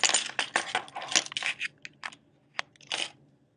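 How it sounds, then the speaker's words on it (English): A USB key is inserted into a MacBook with a quick run of close, light metallic clicks and rattles, followed by a few isolated taps. "I would insert a USB key, and I'll do that here"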